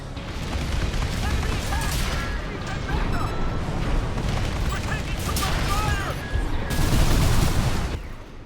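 Missiles burst repeatedly during combat in Armored Core VI, a dense run of booms and crackling blasts over a constant mechanical rumble, with a few sharper electronic tones mixed in.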